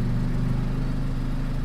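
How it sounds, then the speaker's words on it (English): A steady mid-pitched car engine hum in a video game drones continuously at an even level, like a car passing nearby, with no voices. "I hear another car."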